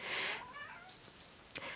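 A house cat in a craft studio lets out a drawn-out, wavering meow up close, followed by faint rustling and small clicks.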